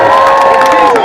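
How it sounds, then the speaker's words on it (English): A large outdoor crowd at a pro-Europe march cheers and applauds for comedian Eddie Izzard, a loud, dense roar of voices and whoops held steady without a break. "we're going to have the first of many rounds of applause for Eddie Izzard"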